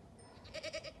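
Goats in a Swiss village give a quick, faint series of four short bleats close together, heard against quiet outdoor background noise.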